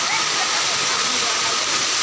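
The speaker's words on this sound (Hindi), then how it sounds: "आपको पीछे दिखाई दे रहा होगा झरना चल रहा है" A waterfall at the Haldeshwar Mahadev temple area in Barmer, Rajasthan pours steadily, a loud, continuous broadband rush of falling water filling the whole stretch with no break.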